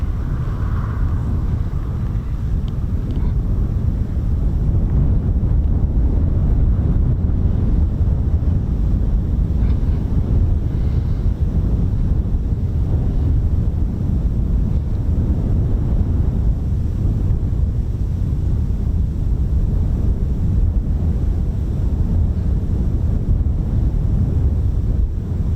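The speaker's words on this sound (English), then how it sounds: "Could just be the wind's picked up a little bit." Steady, loud wind buffets the microphone at an outdoor airfield used by F-35B jets, a continuous low roar with no clear gusts or pauses and no voices.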